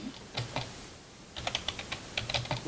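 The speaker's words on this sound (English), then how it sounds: "What's he using to type the keys with a sledgehammer?" Hard, heavy keystrokes on a computer keyboard: a few sharp clacks, a short pause, then a quicker burst of pounding taps, quiet and close.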